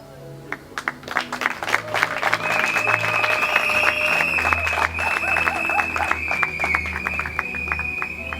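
An audience at a launch event claps and cheers. The applause builds and stays loud and dense for several seconds, with whistles and shouts rising above it.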